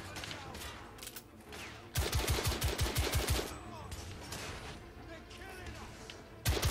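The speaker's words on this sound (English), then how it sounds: "What is this gun? An M2 Falchion auto rifle." Bursts of M2 Falchion auto rifle fire in The Order 1886, a rapid string of loud shots in the middle and another sharp burst at the end, with a voice talking over quieter moments.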